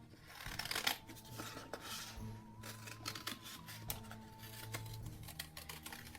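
Paper being cut with scissors into a small custom bolt shape for a Halloween Frankenstein book-folding project, a quiet run of soft snipping and rustling with no talk.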